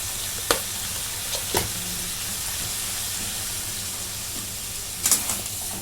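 Mutton sautéing in a pan, a steady close sizzle and hiss with a few sharp clatters of stirring against the metal.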